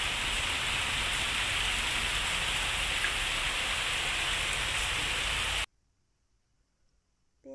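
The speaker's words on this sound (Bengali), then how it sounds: "খুব বৃষ্টি হচ্ছে" Heavy rain falling in a village setting, a dense, steady hiss of drops on surfaces lasting several seconds, then cutting off abruptly to near silence.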